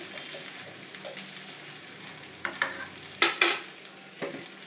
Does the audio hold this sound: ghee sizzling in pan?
yes